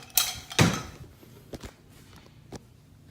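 Lid of an MSI GE63 gaming laptop being opened with two hands, giving a couple of sharp close creaks and clicks followed by a few softer taps and knocks, with no voice over them.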